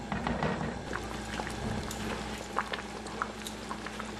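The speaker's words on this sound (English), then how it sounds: "and then we're going to let it simmer." Beef rendang curry simmering in a pot, giving a steady low bubbling with scattered soft pops and gurgles throughout, close and fairly quiet, with no talking.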